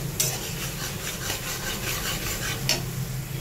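Masala being stirred and fried in a wok, a continuous dense sizzle with soft scraping strokes and a couple of sharper spatula clicks, close and moderately quiet.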